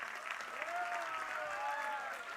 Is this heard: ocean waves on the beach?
no